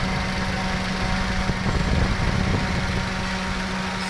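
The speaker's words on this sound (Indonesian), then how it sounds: "itu terlihat motor extra fan-nya bekerja" A car's electric radiator cooling fan whirs steadily under a low engine hum, with a constant tonal drone and no talking.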